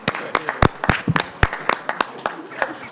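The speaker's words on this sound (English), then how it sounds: "I'd love to give them a round of applause." Applause at a council committee meeting, fairly sparse, uneven claps from a small audience close by, distinct individual hand strikes rather than a dense roar.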